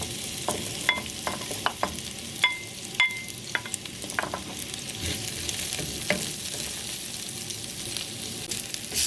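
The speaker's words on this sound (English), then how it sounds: "Add chopped garlic, onion, and green onion to a pan with hot oil." Chopped garlic, onion and green onion frying in hot oil in a pan, a continuous close sizzle dotted with sharp crackles and pops, steady and fairly loud with no voices.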